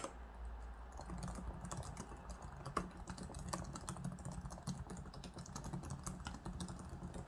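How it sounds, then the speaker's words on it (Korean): Soft, low-noise typing on a Samsung Galaxy Book Flex2 5G laptop keyboard, a steady run of light, muted key taps close by over a low background hum, with no talking. "살살 저소음 타건을 해보겠습니다."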